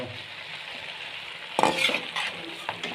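Chinese chicken and vegetable noodles are stirred in a sizzling pan, a steady frying hiss underneath, then scraping, clinking stirs that grow louder and busier in the second half.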